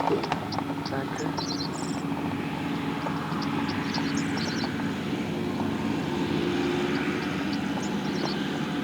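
Tractor baling round and square hay on an Illinois farm in 2004, a steady loud engine drone with mechanical clatter throughout, close and continuous.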